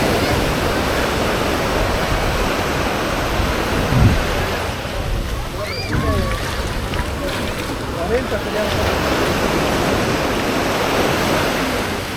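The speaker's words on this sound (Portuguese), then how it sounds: "O barulhinho das ondas, da criançada se divertindo." Ocean waves wash onto the beach at Canasvieiras in Florianópolis on an evening after rain, making a steady broad rush of surf mixed with wind noise. Faint voices are heard in the distance.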